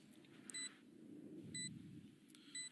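Alarm bot device in the Valorant video game emitting short, sharp electronic beeps in three separate bursts over a faint low hum, quiet and evenly spaced.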